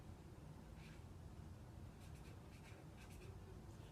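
A child writes a short word on paper with a pencil, faint scratchy strokes in brief bursts over a steady low background hiss, quiet and close, no talk.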